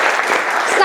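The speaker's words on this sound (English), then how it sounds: "Can I have a round of applause for these two gentlemen" A round of applause from a seated lecture audience, dense and steady clapping at close range for the whole moment, with a voice rising faintly near the end.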